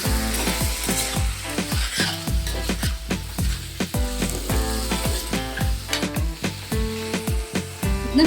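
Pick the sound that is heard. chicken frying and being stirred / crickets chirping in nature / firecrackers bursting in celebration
chicken frying and being stirred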